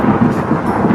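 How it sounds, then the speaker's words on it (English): A loud, close rumble of thunder booms continuously through a short stretch, dense and low with no voices over it. "So, the thunder is booming."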